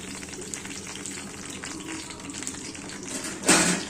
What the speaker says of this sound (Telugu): ఇట్లా నూనెలో ఫ్రై చేసుకోవాలి.